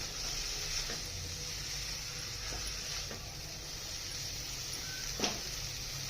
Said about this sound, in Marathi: आणि छान अशी भाजी परतून घ्यायची.